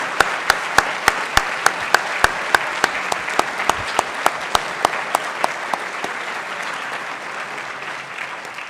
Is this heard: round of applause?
yes